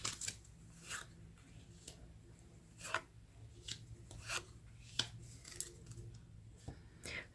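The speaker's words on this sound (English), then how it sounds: "And so shuffling the deck" A standard deck of playing cards with two jokers is shuffled by hand, faint close riffles, snaps and soft rubbing taps coming in irregular bursts over a quiet room.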